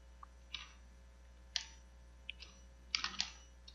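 A name being typed on a computer keyboard: a handful of faint, separate key clicks in an uneven rhythm, some in quick little clusters, over a low steady hum.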